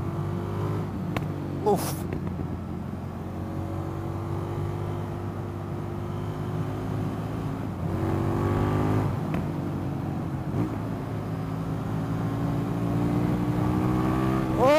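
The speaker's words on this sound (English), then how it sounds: "It's been a long time since I've ridden a bike that goes this quick." An Indian FTR 1200 motorcycle engine drones and pulls harder as the bike accelerates, a steady close rumble swelling in the second half, with a brief exclamation from the rider.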